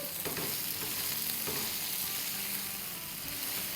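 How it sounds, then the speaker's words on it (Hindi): Okra sizzles steadily in a hot pan for a mutton stew, a constant close frying hiss with a few soft stirring knocks and no voice. "बस इसे हम 3-4 मिनट फ्राई करेंगे"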